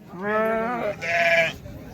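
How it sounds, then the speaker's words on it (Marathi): Sheep and goats at a livestock market bleating nearby, two loud wavering bleats in quick succession, the second higher-pitched, with no talk over them. "बकरी आहे का बकरी किती आहेत सगळी दहा मेंढ्या डबल पिले"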